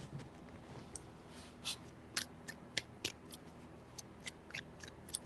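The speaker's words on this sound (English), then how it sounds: "Three shuffles" Tarot cards shuffled three times by hand, heard as a run of crisp, close riffling and snapping clicks in short bursts, with no talking.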